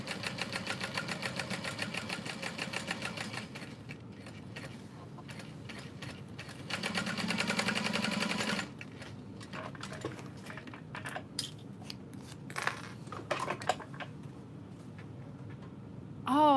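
Sewing machine stitching along the outer edge of fabric, with rapid rhythmic needle chatter in bursts that pause and restart, plus clicks from the handwheel between runs.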